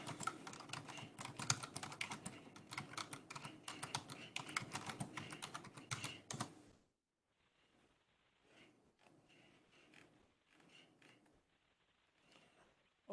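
Rapid clattering keystrokes on a computer keyboard as Linux commands are entered, a dense burst for several seconds, then a pause and a few sparser, quieter clusters of taps.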